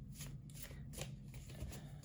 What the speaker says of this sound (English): In this particular style of shuffling that I'm doing right now, I have several different ways.